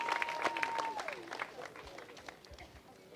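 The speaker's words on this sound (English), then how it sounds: "Clap it up for him one more time, y'all." Audience applause at an outdoor statue unveiling ceremony for Dawn Staley, clapping and cheering that fades over a few seconds, with talk and crowd voices mixed in.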